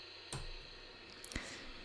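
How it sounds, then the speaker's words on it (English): A toggle switch is flipped to power on a homebuilt Don Lancaster TV Typewriter, giving a sharp close click followed a second later by a second brief click with a slight rattle, over a steady electrical hum. "turn on the TV typewriter by toggling this switch here."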